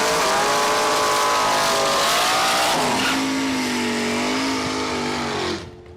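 Bracket drag race cars launch off the start line at Saskatchewan International Raceway, a loud, sustained engine roar with rising tones that cuts off abruptly near the end.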